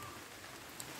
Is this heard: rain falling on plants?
yes